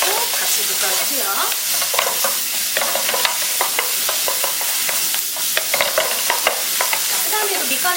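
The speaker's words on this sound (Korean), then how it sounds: "넣어주시고 같이 볶아주세요." Omelette filling stir-fried with a spoonful of ketchup in a pan for a Spanish omelette, giving a steady close sizzle with frequent scraping and stirring clicks throughout, no voices.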